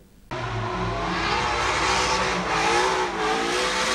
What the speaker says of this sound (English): Muscle cars deliberately undergoing a sustained loss of traction.